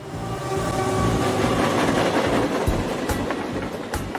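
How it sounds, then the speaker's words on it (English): A train rolls past steadily and fairly close, its rumbling wheels and rattling cars swelling and holding, with a few sharper clanks toward the end, near an old tin barn northeast of Oklahoma City. "he can hear the train as it goes by."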